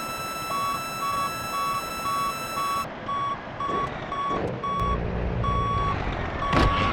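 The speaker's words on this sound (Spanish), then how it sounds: "echar para atrás el camión para que enganche la quinta rueda con el tráiler." Reversing beeps from a truck backing up to couple its fifth wheel to a trailer in the Grand Truck Simulator 2 video game, evenly spaced electronic beeps over engine rumble, loud and steady with no talk.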